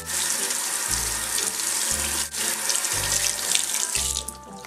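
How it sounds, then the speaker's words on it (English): Makeup brushes are rinsed under a running tap, with a steady loud rush of water broken by brief gurgling dips and splashes as they move through the stream. "So now you want to rinse your brushes."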